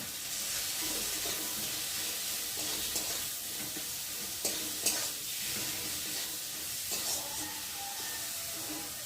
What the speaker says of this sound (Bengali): মশলাটা ভালো করে মিশিয়ে নেব